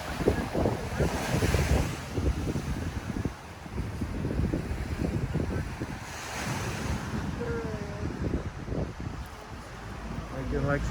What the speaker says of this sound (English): some killer waves